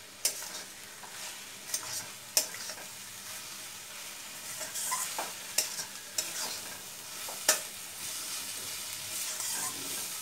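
Raw mango pickle stirred in a pan over a medium gas flame: steady soft sizzle with scraping stirring strokes and occasional sharp clicks of the spoon against the pan, no talk.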